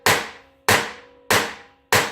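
Four loud, evenly spaced hammer blows land on the bearing retainer of a 1945 Ford 2N tractor. Each is a sharp, close metallic whack with a short ringing tail, heard alone without talk.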